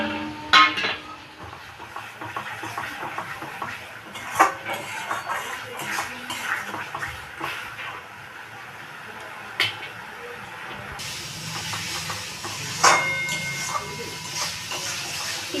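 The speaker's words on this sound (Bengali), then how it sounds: "এবার আমি গ্রেভিটাকে ভালো করে কষে নেব।" An onion-paste gravy with Kashmiri chili powder for a katla fish kalia is stirred and fried in a pan. A spatula clinks and scrapes against the metal at irregular intervals over a soft sizzle, with a person talking intermittently.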